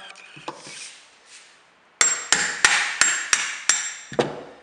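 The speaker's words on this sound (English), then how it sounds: "this gear can punch straight out. I've just got a little punch here with a hammer." A small hammer strikes a punch to knock a gear out of a carbon street skateboard, with one soft tap and then seven sharp metallic blows in a steady rhythm, close and loud.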